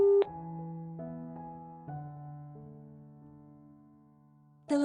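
A phone's electronic tones sound after a call ends: a short sequence of stepped synthetic beeps in a quiet room, clear and alone, ending with a sharper tone.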